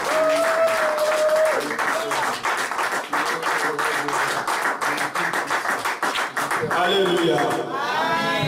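A church congregation breaks into sustained applause and cheering during a worship service, dense clapping running throughout with voices and musical tones mixed in.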